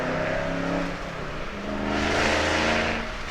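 A 2011 Ford Shelby GT500 engine and exhaust accelerate hard, a loud, steady engine roar that builds in the second half with no talk over it.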